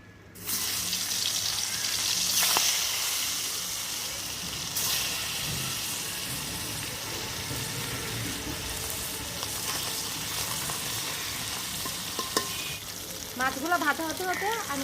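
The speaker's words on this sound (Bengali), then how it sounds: "বাকি মাছগুলো ভেজে নেব।" A batch of Baila fish sizzles in hot oil in a pan, a continuous crackling fry that begins abruptly and holds steady, with brief running water and clatter near the end.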